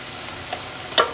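Chili con carne with crushed tomato stirred in a pot: a soft sizzle under two short scraping stirs of a spoon, close and moderately quiet, with no talk.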